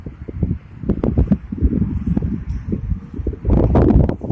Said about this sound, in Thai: เจอลมแรงสักหน่อยครับ